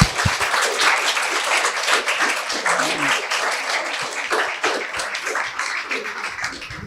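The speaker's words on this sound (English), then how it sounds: "a hand of applause" Audience applause at the 2025 Falling Walls Aotearoa New Zealand event, a dense, steady burst of many hands clapping that carries on evenly throughout.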